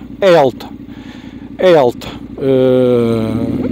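A Yamaha Ténéré World Raid 2023 adventure motorcycle revving in two short sharp bursts, then pulling away with a sustained rising engine note, loud and close.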